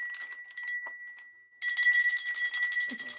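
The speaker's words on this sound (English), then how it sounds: "Ring the bells, ring the bells." A small decorative Christmas bell rings brightly, first in a few light, scattered jingles, then in a sustained loud shimmering peal close by.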